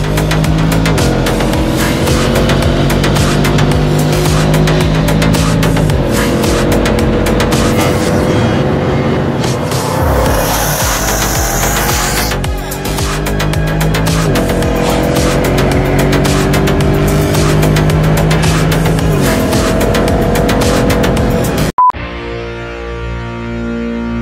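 A race car with an LS3 V8 engine and a BMW ZF gearbox roars loudly through repeated hard acceleration runs with rising and falling revs and gear changes, ending with a sudden cut to a quieter idle.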